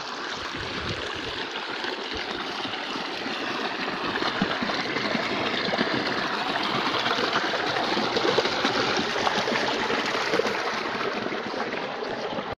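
A waterfall pours steadily, its broad, even rush of flowing water continuing without a break and growing slightly louder partway through.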